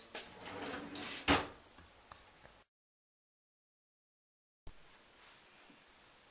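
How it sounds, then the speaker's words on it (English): A dishwasher cutlery basket, from an Electrolux ESL 6225 dishwasher, is lifted out with a sharp clatter about a second in, followed by a short rattle. A silent gap then comes before faint handling noise resumes. "The cutlery basket can be fully removed and brought to the cutlery drawer."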